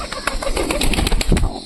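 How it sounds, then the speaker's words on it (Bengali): Pigeons flap their wings close by in a busy burst of fluttering, set against loud, noisy background sound. "দেখেন দেখেন সব কবুতর এসে গেছে।"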